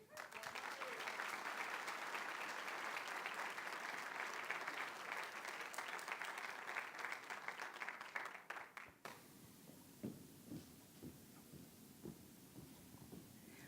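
A large audience at a university convocation applauds loudly and steadily as an award recipient walks to the podium, then the clapping dies away into scattered claps and footsteps.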